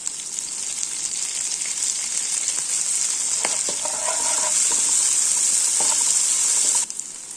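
Fenugreek leaves and mint fry with onion and green chilli, making a loud, continuous bright sizzle with a few stirring clicks. It cuts off sharply just before the end.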